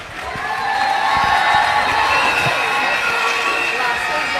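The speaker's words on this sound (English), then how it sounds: "A round of applause once again." A cheering crowd at a church-style candidates' presentation event, loud and steady, with shouts and whoops over scattered clapping for several seconds.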